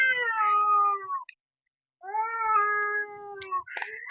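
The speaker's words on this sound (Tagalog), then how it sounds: "Ingay ng pusa mga idol." A cat meows twice in long, drawn-out cries, loud and close, with a short silence between them.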